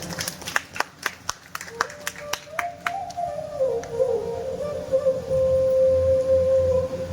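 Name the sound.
audience applause at Ram Katha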